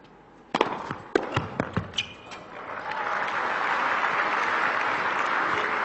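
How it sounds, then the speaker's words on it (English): At a 2012 Zagreb tennis match featuring Ljubicic, a handful of sharp, separate claps ring out first, then crowd applause and cheering swell into a broad, sustained roar that stays steady to the end. "Crowd starting to try and lift their man now"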